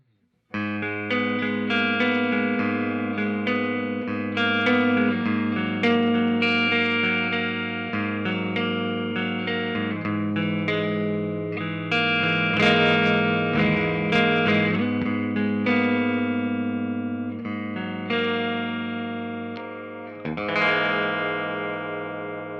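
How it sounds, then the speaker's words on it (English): A 2021 gold sparkle Silverburst Gibson Les Paul Custom electric guitar plays through an amplifier with a driven, slightly distorted tone, sustained chords and notes ringing continuously for over twenty seconds. "let's go ahead and plug this gold Silverburst sparkle dark back Les Paul Custom in and hear how this thing sounds"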